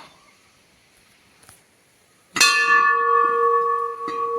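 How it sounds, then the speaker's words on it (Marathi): A large bell at the ancient Siddheshwar temple in Nive village is struck once, loud and close, its deep metallic tone ringing on and slowly fading; a lighter knock follows near the end. "घंटा एकदम मोठी आहे बऱ्यापैकी आणि आवाज बघा कसा दमदार आवाज आहे"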